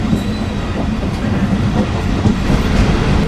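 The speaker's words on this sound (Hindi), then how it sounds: "ये नई नवेली सक्कर एक्सप्रेस को आप सूरज की रोशनी में भी देखें एक बार, जो कि स्किप करने जा रही है जंगशाही रेलवे स्टेशन को" New Sukkur Express running through Jungshahi railway station on wet track without stopping; a loud, steady rumble of wheels and carriages with rhythmic clatter continues unbroken, close by and alone.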